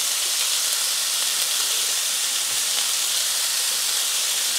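Food sizzles in a hot pan, a loud, continuous, close-up hiss with faint crackles and no talk over it.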